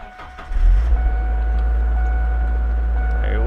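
A 2000 Ford Ranger with the 2.5 engine cranks briefly and fires up, settling into a steady, close, low idle rumble.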